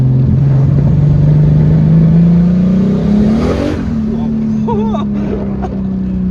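BMW E30 324i with a turbo conversion accelerating hard with wheelspin, engine note climbing steadily and loud, a brief burst near the middle, with someone talking over it throughout.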